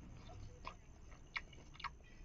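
Close chewing and biting while eating cooked mushroom with flatbread, a few soft crunchy bites heard faintly against a quiet background.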